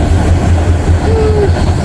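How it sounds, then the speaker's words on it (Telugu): Isle of Man steam train running through countryside, giving a loud, steady rumble of rail cars with a brief faint whistle-like tone partway through. "చెట్ల మధ్యలోంచి వెళ్తాయి ట్రైన్."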